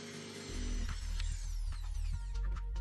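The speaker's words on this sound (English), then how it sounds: "In the lower part of the balloon, we drill a hole in the center, 8 mm in diameter." A drill boring an 8 mm hole through the center of the lower part of a balloon, a steady close whirring grind starting after a brief quiet moment and running on with faint ratcheting clicks.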